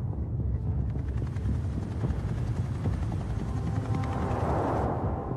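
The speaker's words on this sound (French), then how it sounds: "l'hélicoptère arrive au-dessus de la prison de Réau" Steady, heavy rotor thrum of a helicopter overhead above Réau prison, loud and continuous with a rumbling low end and wind-like hiss, no voices.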